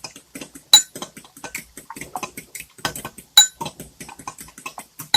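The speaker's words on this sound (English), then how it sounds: "And I'm just going to whisk this up." A whisk beating a mixture in a bowl, with rapid, irregular metallic clicks and taps close by, some strokes sharper and louder than others, with no talking.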